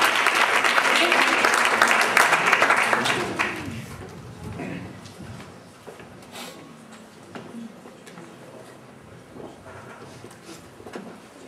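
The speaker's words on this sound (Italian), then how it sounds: "un applauso perché ha studiato." Audience at an Italian pop rock jazz singing contest applauds loudly for a few seconds, then the clapping dies down to scattered claps and quiet room noise.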